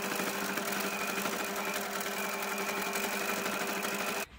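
Sewing machine stitching fabric during free-motion quilting, a steady fast mechanical whir held at even loudness for several seconds before stopping abruptly near the end.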